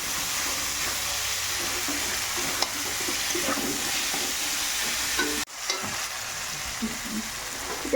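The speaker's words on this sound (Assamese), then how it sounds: "এইখিনি ফ্ৰাই কৰি ল'ম" Potatoes frying in a pan while a Kathphula mushroom dish is prepared, giving a steady, close, dense sizzle throughout, with a brief dip and a faint clatter near the end and no talk.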